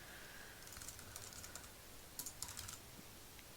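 Someone types on a computer keyboard while saving a file in Notepad. A few soft key taps come first, then a quick cluster of sharper clicks, all faint and close against quiet room hiss.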